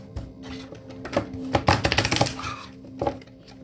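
Tarot cards shuffled by hand in a quiet room, a run of soft papery riffles and taps that bunch into a dense flurry midway, then a final few flicks.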